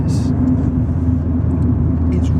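Renaultsport Clio 182 hot hatch driving on a small twisty road, its engine a steady, loud low rumble heard from inside the car, with faint speech over it.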